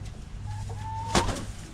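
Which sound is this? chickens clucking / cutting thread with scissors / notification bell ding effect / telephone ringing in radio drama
chickens clucking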